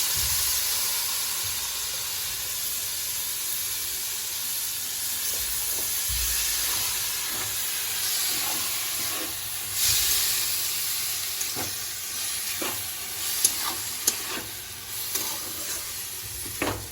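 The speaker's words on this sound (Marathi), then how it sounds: "हे असं टाकून आपण आता परतून घेऊ" Boiled hyacinth bean pods are sautéed in a pan, producing a continuous loud sizzle and hiss with intermittent scraping clinks of stirring that grow more frequent in the second half; no voices are heard.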